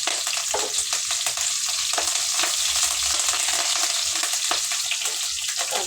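Curry leaves sizzle and crackle in hot oil in a pan, a loud continuous frying hiss with sharp pops and stirring scrapes throughout.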